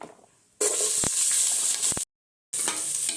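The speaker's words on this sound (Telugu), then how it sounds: "2 ఉల్లిపాయలు కట్ చేసుకున్నాం, ఇది వేయించుకున్నాం." Sliced onions frying in oil and ghee in a pot for mutton biryani, a loud steady sizzle with brief stirring knocks, broken by a short silent gap before the hiss resumes.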